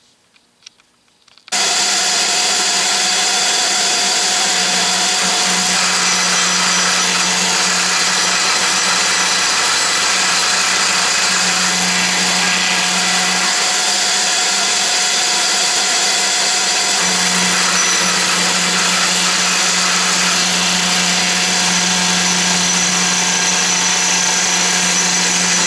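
A safety planer cutting wood at high speed starts abruptly and runs as a loud, steady broadband whine with a droning hum, continuing without pause and with no talking.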